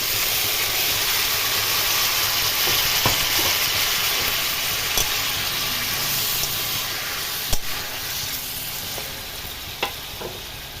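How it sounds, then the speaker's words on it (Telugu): Tomato pieces frying in a pan with mint and green chillies for a tomato chutney, giving a steady broadband sizzle throughout with occasional sharp clinks and stirring knocks, no talking. "పుదీనా బాగా వేగి టమాటా ముక్కలు వేస్తున్నాను"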